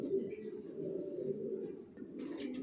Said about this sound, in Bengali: ভিউয়ার্স দেখতে পাচ্ছেন এখানে এক জোড়া নিউ অ্যাডাল কবুতর দেখাচ্ছি